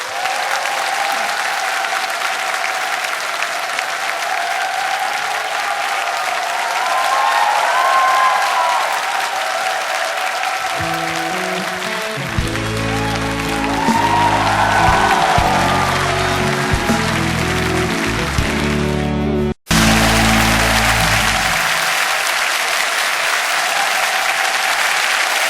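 A studio audience greets a rock singer with loud, continuous applause, a dense wash of clapping that runs the full length, with a low rumbling swell under it midway and a sharp click near the end.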